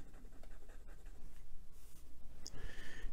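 A Delike New Moon fountain pen with a fine steel nib writing on paper, quiet close scratchy strokes in short uneven bursts, alone without talk.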